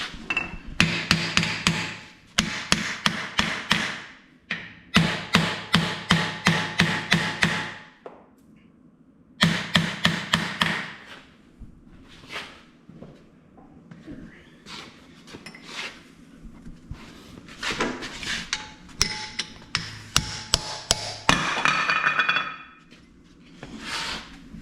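Repeated hammer blows ring out on metal of a 1945 John Deere B tractor in fast bursts of strikes separated by brief pauses, close and sharp, with clinking in between.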